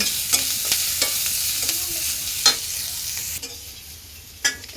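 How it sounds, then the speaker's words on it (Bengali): Food being stirred in a hot frying pan, a steady sizzle under repeated scraping strokes of a spatula, close and moderately loud with no talk. "নাতাশা নাড়াইতেছে"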